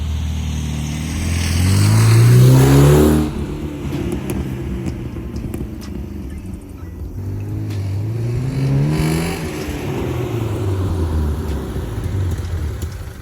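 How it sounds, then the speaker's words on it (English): Four-cylinder engine of a 1972 BMW 2002 fitted with an aftermarket Borla exhaust, revving up twice with rising then falling pitch over a steady idle rumble, close and fairly loud, no talking. "It does have Borla exhaust on it, an aftermarket exhaust."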